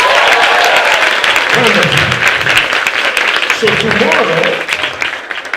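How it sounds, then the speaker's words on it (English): Applause from a school audience for students at a girls' secondary school event, steady and loud throughout with voices over it. "Why don't we clap for them?"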